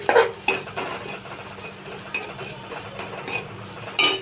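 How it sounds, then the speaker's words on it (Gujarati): Semolina (rava) roasting in a pan while being stirred with a utensil, soft dry sizzling under repeated scraping and clinking strokes against the pan, close and fairly loud. "એક નાની વાટકી જેટલો રવો લીધો છે તે એડ કરીશું અને આને બરાબર આપણે શેકીશું"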